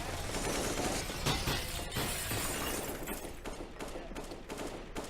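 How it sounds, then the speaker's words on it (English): Glass skylights in a competitive Rainbow Six Siege-style shooter match shatter under gunfire, a dense crashing of breaking glass over rapid shots that rings loud for several seconds before thinning into scattered tinkling and pops. "Shattering the skylights is Rise Nation"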